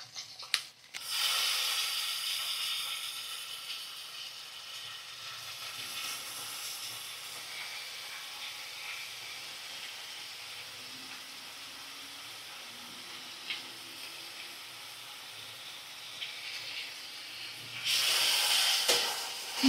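Ginger-garlic paste, cumin paste and sour yogurt fry in a hot pan, giving a steady loud hiss and sizzle that settles into a softer crackle, then swells again near the end.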